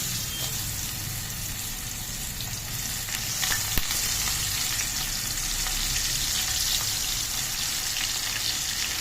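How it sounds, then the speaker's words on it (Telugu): Fish coated in corn flour frying in boiling oil, a loud, dense, continuous sizzle with crackling bursts and faint stirring, steady throughout without any voices. "ఆయిల్ మరిగిందండి, చేపలు వేసుకుంటున్నాం."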